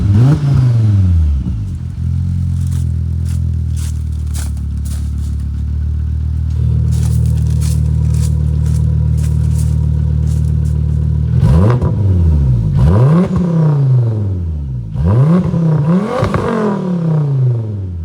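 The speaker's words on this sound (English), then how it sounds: "exhaust gas tends to choose the path of least resistance, so it will go this way and make more noise" Car engine revving through a custom welded exhaust with the valve open, loud throaty rises and falls with sustained high revs, then several sharp blips toward the end.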